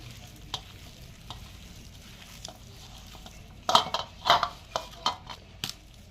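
Spoon scraping and clinking against a pan while ginger garlic paste is stirred, quiet background sizzle with a cluster of sharp metallic stirring knocks near the end.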